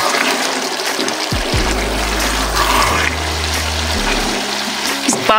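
Pre-heated water pours into masala frying in a pan for aloo matar, a loud rushing gush up close that hisses and gurgles, then tails off into trickling and bubbling.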